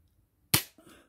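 A single sharp, close shot from a Diana P-Five 4.5 mm spring air pistol snaps out with a quick fade, followed by a faint softer thud.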